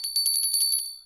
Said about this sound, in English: There's the bell, Jimmy. Ring it.